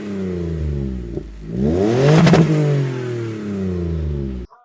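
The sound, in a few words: Toyota Blade 3.5L 2GR engine with modified exhaust revving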